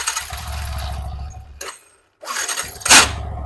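The faulty electric self-starter of a Yamaha R15 V4 motorcycle cranks in two short, harsh bursts with a silent gap between them, giving a rough clacking grind up close.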